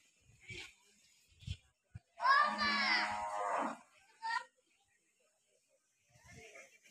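A bull at a cow shelter in Mayapur lets out one long, loud, wavering moo lasting more than a second, with brief voices and small sounds nearby before and after.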